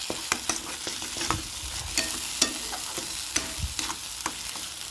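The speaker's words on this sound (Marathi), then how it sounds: "मसाला असा छान असा परतून घ्यायचा आहे," Masala with cumin, bay leaf, turmeric and chilli powder being stirred and sautéed in oil in a kadhai: steady sizzling under repeated sharp scrapes and clinks of the spoon against the pan, close and moderately loud, with no voices.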